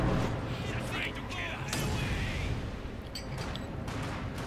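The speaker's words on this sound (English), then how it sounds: "Panzerwerfer unleashing H-series barrage again." A Panzerwerfer rocket barrage from Company of Heroes 2 during a 2v2 battle: dense, continuous rumbling bursts and booms, loud and close, with a brief high whistling streak near the end, layered over other battle noise.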